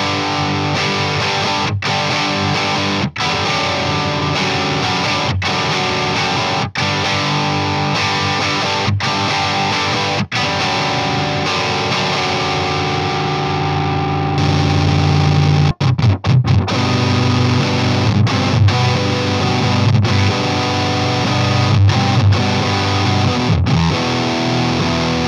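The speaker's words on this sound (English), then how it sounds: "we're essentially gonna use the pedal to kick into like a heavier part of a song" Electric guitar through a Jupiter Effects Warlow Fuzz Monstrosity pedal: heavily distorted chords ring out loud and sustained, with sharp stops and restarts, building into a thicker, heavier section midway.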